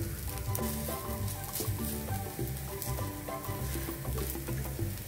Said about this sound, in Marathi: असं छान दोन्ही साईडने छान शेकून मग हा आपण काढायचा आहे